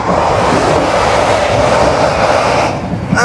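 A crowded Indian Railways passenger train runs steadily, giving a loud continuous rumble and rattle heard from inside the carriage, with no talk.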